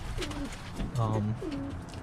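Birmingham Roller pigeons coo close by, several soft throaty rolling calls in succession with a low background murmur.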